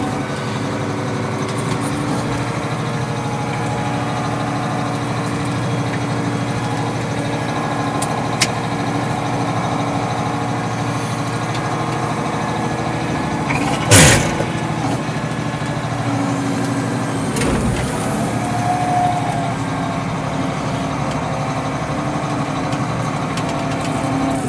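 A Case 4690 tractor engine idling in a steady, even rumble close by, with a brief louder burst and a short drop midway, otherwise unchanging throughout.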